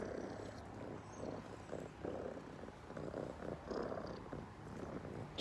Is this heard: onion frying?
no